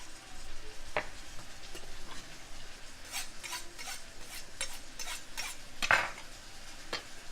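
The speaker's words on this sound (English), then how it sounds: "I'm just gonna put in some tomatoes as well" Ripe tomatoes dropping into a pot of Provence-style braised chicken, scattered soft plops and clinks of a utensil against the pot over a faint background, with one louder knock near the end.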